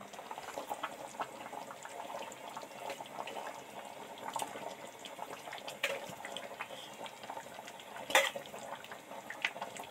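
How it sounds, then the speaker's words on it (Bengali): Chicken curry with hot water added bubbles on the stove, a soft steady simmer of small pops and gurgles with a few louder bursts. "মাংসটা টুকবুক টুকবুক করে সঙ্গে সঙ্গেই ফুটতে থাকছে"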